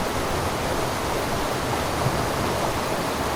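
Distant stream recorded outdoors, a steady broadband rush of flowing water with no distinct splashes, even and continuous throughout.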